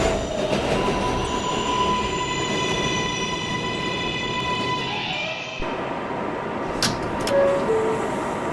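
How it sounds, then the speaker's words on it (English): A 7 express train on the IRT line rumbles steadily with wheel squeal and rail noise from on board, loud and continuous, with a brief jolt and shift in tone partway through. "This is a Kennedy Main Street bound 7 express train."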